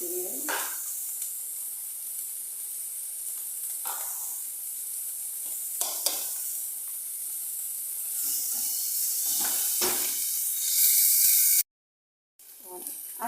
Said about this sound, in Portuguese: A cebola e o alho já bem fritinho